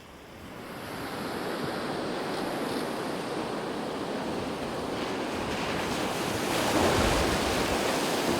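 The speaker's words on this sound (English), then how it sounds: "wait for those waves to recede before we drive on through" Southern Ocean waves wash steadily onto a beach on a four-wheel-drive coastal route, a loud, continuous roar of surf with gusting wind that swells toward the end, with no voices.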